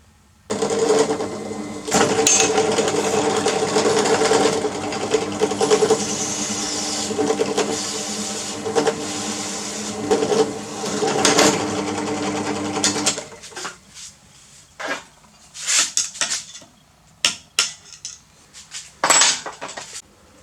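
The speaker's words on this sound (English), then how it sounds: "you just want to get a bit of chopping board and then drill her out" A steady whirring power drill grinds through a plastic chopping board for several seconds, then stops, followed by scattered clatters and knocks of plastic being handled.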